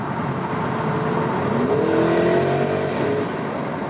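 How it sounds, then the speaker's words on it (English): A 2021 Porsche Cayenne GTS Coupe's V8 with sports exhaust roars loudly inside a tunnel. A continuous booming drone swells as the revs climb midway, then eases slightly, with no talk. "So that sports exhaust is really something"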